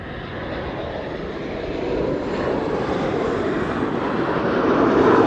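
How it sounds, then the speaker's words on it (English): KLM Embraer 190 jet arriving from London City: a broad, steady roar of jet engine noise that slowly swells louder, heard from a distance with no voices. "This is KLM flight 982 arriving from London City, Embraer 190."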